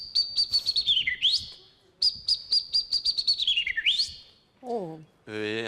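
A person whistles an imitation of chaffinch song: two bright, rapid trills that slide downward into a flourish. A short vocal exclamation follows at the end.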